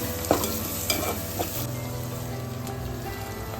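Onions browned in a pan with a spoonful of ginger garlic paste and turmeric added, sizzling steadily while a spoon scrapes and stirs a few times early on, close by.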